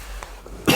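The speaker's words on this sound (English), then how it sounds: "Did you just cough?" A single person's sharp cough near the end of a short quiet stretch, close and loud after faint breathy sounds.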